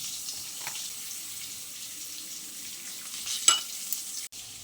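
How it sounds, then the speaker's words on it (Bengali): Pointed gourd (potol) fries in a pan with a faint, steady sizzle. A couple of brief stirring clicks and a sharper clatter sound near the end. "এদিকে পটলটা ভাজা হতে হতে আমি ততক্ষণে একটা মশলা তৈরি করে নিই"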